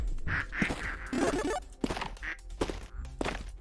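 Ducks quacking in the video game Project Pitt Demo Dash, several short nasal calls in quick bursts with thumps and knocks mixed in, fairly close and moderately loud.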